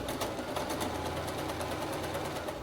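Sewing machine stitching a seam along fabric edge with a one-centimetre allowance, a continuous fast mechanical whir with a rapid even clatter throughout, close and fairly quiet, no talk.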